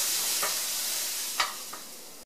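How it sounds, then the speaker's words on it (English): Chopped carrot and onion cook in butter in a pan, giving a steady soft sizzle with a few brief stirring scrapes, close by and fairly quiet. "I'm just going to let the carrot and the onion cook for just a couple of minutes."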